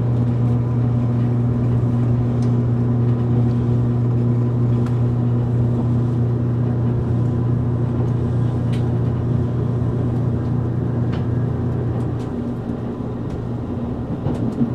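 Steady, loud interior rumble of the JR Nippo Line limited express Kirishima train pulling away from Hayato station toward Miyazaki, a constant low drone with faint clicks and knocks, easing slightly near the end.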